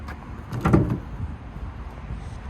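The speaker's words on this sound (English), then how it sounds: "Easy let down tailgate." A Chevy Silverado EV tailgate is lowered in one short, smooth movement with a soft muffled thud midway, close by over faint background hum.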